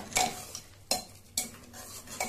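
Masoor dal is tempered in a pan with a spoon, giving three or four sharp scraping clinks against the metal over a soft sizzle, close and fairly quiet with no talking.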